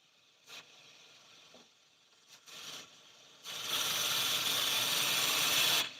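A homemade pulse motor spinning at almost 1200 RPM, giving a fast mechanical rattling whir that starts faint and intermittent, then turns loud and continuous for the last few seconds.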